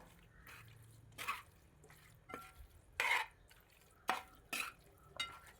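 Chicken and salt are stirred together in a pot for a Kerala-style ash gourd chicken curry, with a spoon scraping the pot in short, intermittent strokes at low volume and quiet pauses between them.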